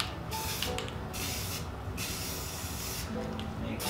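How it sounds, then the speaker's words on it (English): Aerosol paint spraying onto a rifle magazine for camouflage, a close, steady hiss in several bursts separated by brief pauses, with no talking over it. "Spray it here."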